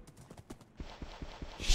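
Horse hooves clip-clop in Minecraft, a quick run of light, evenly spaced hoof taps that turn heavier and more pronounced partway through, fairly quiet overall.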